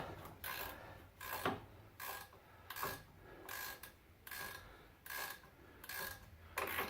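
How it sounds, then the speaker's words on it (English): Close up, a ratcheting box wrench works a rear strut bolt on a 2006 Ford Explorer in repeated rasping strokes of about half a second each, a rough clicking drag with short pauses between pulls. "ratcheting wrench, just ratcheting box wrench here"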